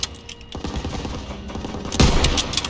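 Rapid machine gun fire in the Call of Duty WWII campaign: continuous rattling bursts with overlapping battlefield shots, holding steady and then surging louder near the end.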